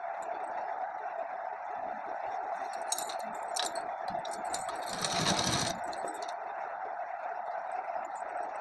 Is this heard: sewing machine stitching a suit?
yes